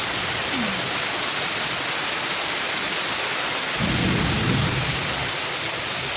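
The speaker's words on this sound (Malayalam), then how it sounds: "ഇപ്പോൾ ഇവിടെ മഴയാ" Steady, dense rain pours down close by on an open house veranda, a constant hiss throughout, with a deep rumble of thunder rolling in around the middle and fading away.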